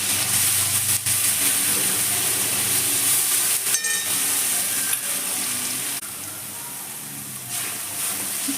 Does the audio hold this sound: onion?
yes